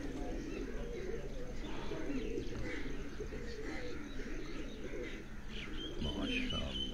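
Golden pigeons coo on a rooftop in soft, repeated low calls, with chirps scattered above and someone talking intermittently over them.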